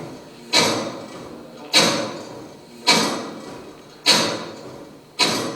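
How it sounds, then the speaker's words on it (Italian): A 16th-century astronomical clock mechanism (1583-1588) runs inside the Torrazzo of Cremona. It gives five heavy, evenly spaced clunks about once a second, each ringing out briefly before the next, close and alone with no voices. "Siamo nella stanza del meccanismo dell'orologio astronomico"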